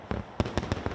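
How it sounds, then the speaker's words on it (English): Fireworks display at Copacabana Beach in Rio de Janeiro on New Year's, with four or five sharp booming bursts in quick irregular succession over a continuous crackling rumble. "the fireworks show there lighting up the Rio skyline"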